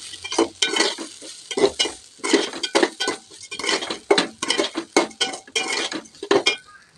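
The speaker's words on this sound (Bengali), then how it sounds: "এবার চালটা এভাবে ভেজে নেব।" Raw rice for basanti pulao being fried and stirred in a pot, a repeated rhythm of scraping spoon strokes with sizzling and clinks against the metal, close and fairly loud, no voices.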